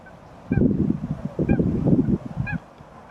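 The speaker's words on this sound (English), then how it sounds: "Can you hear that? That'll be some bird." Three loud, nasal honking calls from a nearby bird at a lakeside, evenly spaced about a second apart, with a quiet background.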